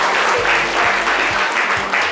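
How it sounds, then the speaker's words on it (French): A live audience at a French daytime entertainment show applauds loudly and steadily, a dense wash of clapping with rhythmic thumps underneath, filling the whole moment without a break. "On va les applaudir très très fort, les amis. On les applaudit."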